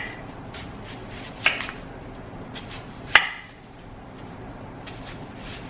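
A knife chopping an onion on a cutting board, two distinct sharp knocks about two seconds apart against quiet background rustle.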